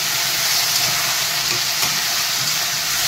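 Spice paste for a Bengali shingi fish curry with cauliflower sizzles steadily in a pan with a little water, a dense continuous hiss and crackle at close range with no talking.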